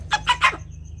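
Chicken being picked up and handled, giving three short close clucking squawks in quick succession over a low steady background hum.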